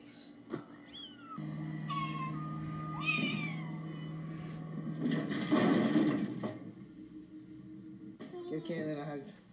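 A kitten meows repeatedly in short, high cries, with a longer squealing call partway through, heard close up alongside people talking.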